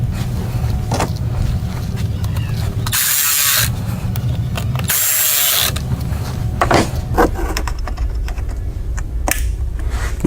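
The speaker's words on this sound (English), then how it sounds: "go ahead and tighten up your clamps" Clamps being tightened on a JLT cold air intake for a Dodge Hellcat, quick ratchet clicking in short runs with a couple of bursts of louder rushing noise between them.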